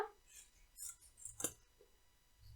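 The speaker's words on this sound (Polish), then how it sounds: "I tutaj sobie po prostu tylko wycinam kształt liścia" Scissors cutting a leaf shape from satin ribbon for handmade flowers: a few soft, close snips with a brief sharper cut in the middle, quiet and alone.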